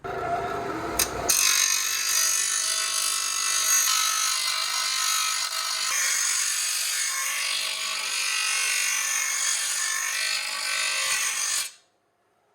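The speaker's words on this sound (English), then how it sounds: "And we have a bench grinder, so..." A bench grinder grinds a metal part for a Jeep rear-mounted radiator build, giving a loud, close, continuous high-pitched whine and rasp that runs for about ten seconds and then cuts off sharply, with no talk.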